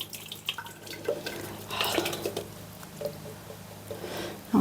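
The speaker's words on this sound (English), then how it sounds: "So now I'm going to empty this because this is dirty water." Dirty water from a Dream Look makeup brush cleaner is tipped out, giving soft drips and short trickling pours at low to moderate level, with no talking.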